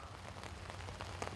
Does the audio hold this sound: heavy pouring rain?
yes